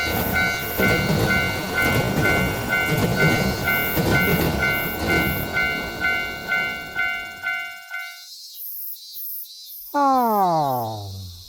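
Cartoon railroad crossing bell clangs in a steady, rapid ding-ding rhythm over the rumble of a passing train. The bell stops abruptly, then a loud descending whistle-like tone sweeps down near the end.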